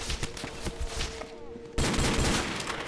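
Gunfire shooting zombies in Call of Duty: World at War custom zombies, with rapid cracking shots in quick succession, a quieter lull with a faint tone, then a sudden louder burst of fire that holds to the end.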